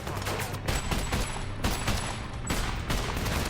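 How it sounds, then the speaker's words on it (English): Heavy gunfire rattles in a battle scene of a war film about Finnish recruits fighting Russian mercenaries, dense rapid automatic bursts and single shots crackling continuously, loud and close with no pauses. "Hearing gunshots, Rami hurriedly asks Henry about the situation"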